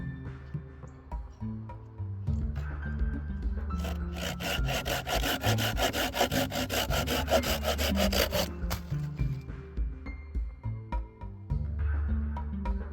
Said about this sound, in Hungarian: Ha a fűrész nem akar belekapni a fába, össze-vissza csúszkál, ugrál